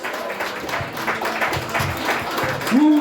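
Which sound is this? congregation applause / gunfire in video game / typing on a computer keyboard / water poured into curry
congregation applause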